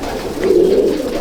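Close, steady low cooing from an old Kaldama black-green pigeon in a loft, one sustained throaty coo rising in the middle and fading toward the end.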